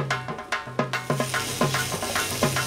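A spoon stirs dal frying in a pan with ginger paste, coconut paste, turmeric, green chili paste and salt for khichuri, making repeated scraping strokes in a quick, even rhythm over a soft sizzle.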